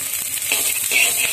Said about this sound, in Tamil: இது ரொம்ப வேகமா லேசா சாஃப்ட் லேசா ஃப்ரை ஆனா போதும்.